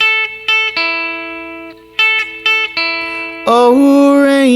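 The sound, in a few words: electric guitar lick from a song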